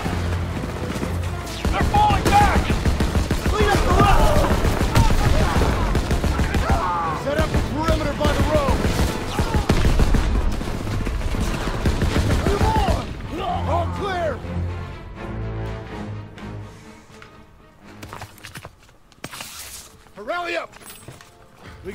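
Gunfire in the World War II shooter Call of Duty WWII crackles in repeated bursts under constant overlapping voices, then thins out to a few scattered shots as the talk continues.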